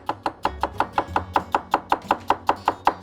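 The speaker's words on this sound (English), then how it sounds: "I'd rather do a chop cut, especially on celery" A chef's knife chop-cuts celery on a board in a fast, even rhythm, about fifteen crisp, close strikes in quick succession. The chopping is heard alone, with no talking.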